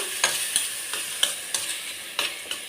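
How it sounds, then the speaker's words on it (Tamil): Vegetables for a momo filling sauté in butter in a pan, a steady close sizzle broken by several sharp scraping stirs at an irregular rhythm. "இப்போ இதுலேயே நம்ம இந்த காயை போட்டு வதக்கிப்போம்"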